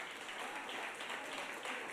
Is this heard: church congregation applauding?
yes